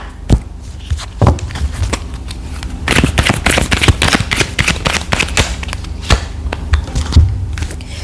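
Tarot cards being shuffled live during a card reading, giving repeated close crisp riffling and flicking bursts of uneven rhythm that thicken in the middle stretch, with no talking.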